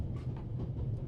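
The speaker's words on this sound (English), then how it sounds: "The noise on this train is driving me crazy." A train in The Raven: Legacy of a Master Thief rumbles in a short, continuous low clatter, steady and fairly loud with no voices over it.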